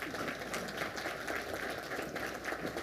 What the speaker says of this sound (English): Give her a hand of applause.